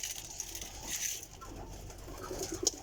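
Pigeons coo softly at a feeder, a few low throaty calls close by against quiet outdoor background, with no voices.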